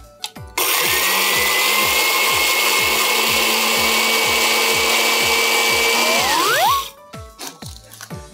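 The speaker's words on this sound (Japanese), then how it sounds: "ミキサー使うと粉々になりすぎてしまう可能性もあるから" Electric blender grinding dry material into a fine powder, a loud, steady motor whine running for about six seconds before spinning down, with short bursts of noise and voices before and after.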